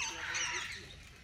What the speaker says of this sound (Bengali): এই দেখুন সব রাজহাঁস।